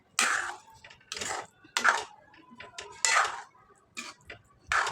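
A spoon stirs wheat kheer in a metal pot after milk is poured in, giving six or seven separate scraping clinks at a steady pace, close and fairly quiet.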